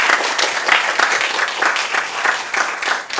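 A French-speaking audience at an accessibility challenge event applauds the presenters again, dense steady clapping from many hands filling the room, fairly loud and close, with no voices over it.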